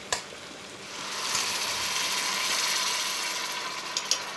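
Poultry stock is poured into a hot pan, setting off a steady, bright sizzle that swells after a second and keeps hissing with faint clicks and scrapes.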